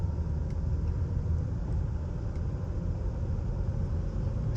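A rare classic Mercedes bought at auction for $425, a cold engine pulling away in first gear, its low steady rumble heard from inside the car without talk.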